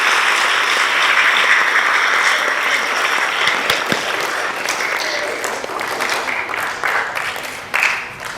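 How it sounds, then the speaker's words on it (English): An audience at a primary school prefects' investiture ceremony at Oshwal Academy Nairobi applauds, a dense, steady wash of many hands clapping that carries on for several seconds before thinning slightly near the end. "May we please have a round of applause for all of them"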